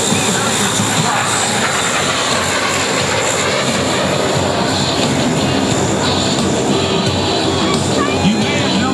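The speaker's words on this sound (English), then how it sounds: "From the right, here comes your United States Marine Corps AV-8B Harrier 2 Plus." A US Marine Corps AV-8B Harrier II Plus jet passing at an air show at Marine Corps Air Station Beaufort, heard as a loud continuous jet roar that fills the whole stretch.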